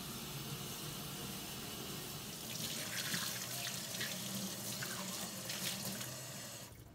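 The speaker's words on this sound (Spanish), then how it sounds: "Antes de cocinar, lava tus manos." Hands being washed under a running kitchen tap before cooking, a steady close stream of water with splashing that grows louder and busier midway, no talking.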